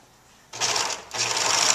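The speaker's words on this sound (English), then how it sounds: "The first thing we're going to do is serge along the short ends of the pouch pattern piece" A serger stitching along the short fabric edges of a sewing pouch piece runs in two close, steady bursts of whirring mechanical buzz with a brief pause between them.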